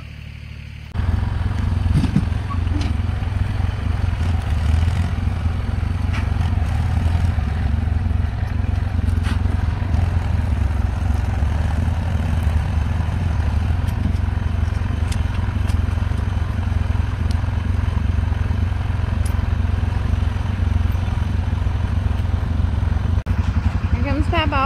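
A yellow tractor drives steadily through an outdoor work area where equipment is being moved, its low engine rumble continuous and fairly close, with clattering and scraping over the top and voices talking intermittently.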